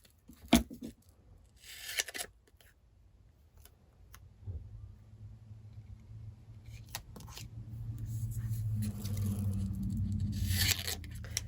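Double-sided tape is pulled and pressed onto a hardbound journal's spine and cover. A few brief tearing rasps are heard, then a low, steady hum and a final rustling burst, all fairly faint.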